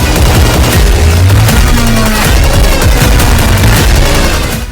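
Loud, dense bursts of gunfire and heavy booms from war in Gaza fill the whole stretch, rumbling continuously like a chaotic battle with no pauses.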